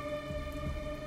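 Steady rain in the video game Detroit: Become Human hisses continuously over a low droning hum, soft and even for about a second.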